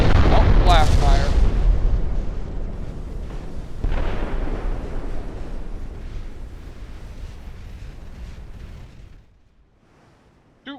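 Naval gunfire and explosions in the Ultimate Admiral Dreadnoughts warship game: a heavy booming salvo followed by further rumbling blasts that slowly fade, with a brief voice near the end.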